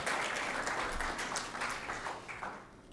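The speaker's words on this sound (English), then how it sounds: "A round of applause to our PS as she settles." Applause from an audience at a World Malaria Day event, a steady wash of many hands clapping that holds at a fairly constant level throughout.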